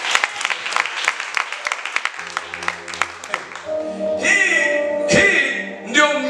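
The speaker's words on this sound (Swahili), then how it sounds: "Piga makofi." A Pentecostal church congregation claps in a quick scattered round for a couple of seconds, then fades as voices and music rise in.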